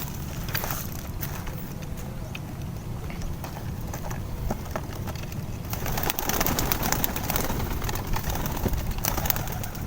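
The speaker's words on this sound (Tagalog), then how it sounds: "i-release ko na yung ibon" Racing pigeons are released and take off outdoors with a rustle of flapping wings and soft coos over a busy background hum, wing bursts coming in short clusters, no talk.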